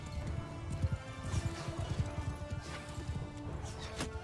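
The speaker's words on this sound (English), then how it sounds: "Let's do a cavalry charge from the flank, and we'll go in from behind with the horse archers as well." Cavalry and horse archers charge across a battlefield in Mount & Blade II: Bannerlord, a dense rumble of galloping hooves with scattered clashes and faint shouts, steady and loud throughout.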